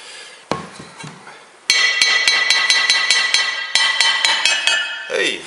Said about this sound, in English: Here's another piece that I could probably get out with the hammer, maybe.